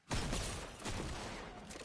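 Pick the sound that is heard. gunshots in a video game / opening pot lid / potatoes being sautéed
gunshots in a video game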